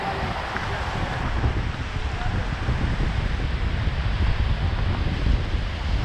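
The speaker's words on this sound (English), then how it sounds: "Look at these strange waves coming against each other." Waves meet and wash against each other off the Door County shore, a steady broad surf swell heard under heavy wind buffeting the microphone.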